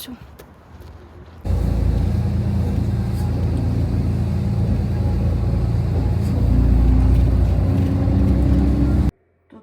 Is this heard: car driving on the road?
yes